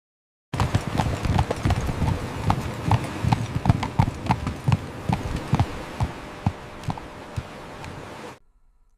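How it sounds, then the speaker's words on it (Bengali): A horse-drawn ekka cart trots along, hooves clip-clopping in a quick, steady rhythm close by, with wheels rattling underneath, before stopping abruptly near the end. "এক্কা গাড়ি চলছে দৌড়ে"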